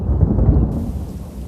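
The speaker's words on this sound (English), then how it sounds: "The ominous sound of thunder in the background meant that Carl was right again, and rain was on its way." Low thunder rumbles heavily and steadily on an outdoor summer fishing outing, a deep rolling roar that fades toward the end.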